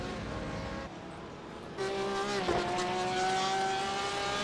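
A GT3/GTE race car in a racing video game on the Mosport circuit sweeps past with a steady, high engine whine that climbs in pitch, the sound fairly faint and continuous with no talk over it.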